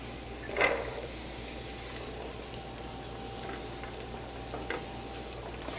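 Diced celery and bite-sized carrot pieces sizzle steadily in a pan with a soft, even frying hiss. A stir clatters once near the start, and faint utensil taps come later, with no talking.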